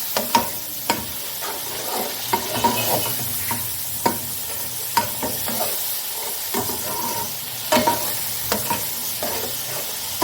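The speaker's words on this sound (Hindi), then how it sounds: "इनको मैं 2 से 3 मिनट तक पकाऊंगी, अच्छे से भूनूंगी ताकि इनकी पकाई हो जाए" Peas and chickpeas fry in a pot for pulao under a steady sizzle, while a spoon scrapes and clinks against the metal every second or so in an uneven rhythm, close and fairly loud.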